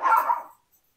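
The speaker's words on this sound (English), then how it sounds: "Just in time for the dogs to start" Dogs playing give a single short bark, close and fairly loud, that fades within half a second, with a faint yip just after.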